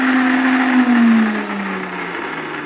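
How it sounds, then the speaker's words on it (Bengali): A blender whirs loudly as it grinds prawns, its motor pitch holding steady and then dropping and slowing as the load catches, close up and alone. "এগুলো আমি ব্রেক করে নিব ব্লেন্ডারে"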